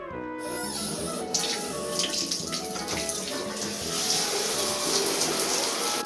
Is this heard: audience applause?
no